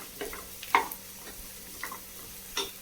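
A spoon gives a few scattered scrapes and taps as biryani masala ingredients are stirred in a pan over a faint low background hum, with soft sizzling between the strokes and no speech.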